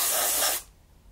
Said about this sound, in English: give them a quick little spray of white down there